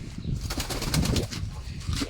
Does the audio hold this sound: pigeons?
yes